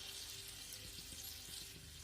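Water runs steadily into a cooking pan for a Tamil-style sauce, a continuous close splashing pour with a faint hiss underneath.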